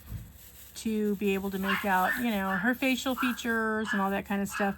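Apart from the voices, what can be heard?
dogs barking in the background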